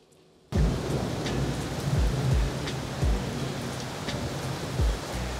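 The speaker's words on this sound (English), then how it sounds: "Yep, there's a lot of rain out there." Heavy rain pours outside in a dense, steady roar that starts abruptly after a brief quiet, with repeated low thuds mixed into the downpour.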